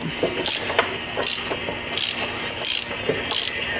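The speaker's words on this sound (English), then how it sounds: "I got the socket on there, backing it out." A ratchet and socket backing out the oil filter housing on a 2008 Volvo S40, giving several close bursts of quick clicking separated by short pauses, over faint background noise.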